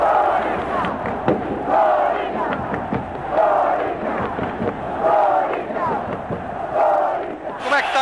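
A large crowd of Corinthians football supporters chants in unison at the Maracanã stadium, a repeating rhythmic phrase, loud and echoing.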